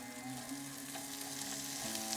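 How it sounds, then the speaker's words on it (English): Onion frying in hot olive oil with cumin seeds, a steady close sizzle and crackle with faint stirring, continuous and fairly even throughout with no talking. "Going to add the onion."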